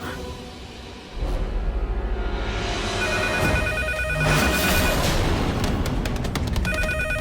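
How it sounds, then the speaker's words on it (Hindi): A landline telephone rings indoors, an electronic ringing that repeats in bursts over a low background hum, starting after a brief quieter moment and growing denser toward the end. "ये पागल खाने वाले लैंडलाइन पे फोन कर रहे हैं।"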